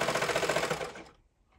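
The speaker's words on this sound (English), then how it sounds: "I'm just gently easing on the neckband, stitching a little bit, and then gently pulling a little bit more" A sewing machine stitches a neckband onto a t-shirt dress in a short, rapid, even run of needle strokes that stops after about a second, close and clear with no talk.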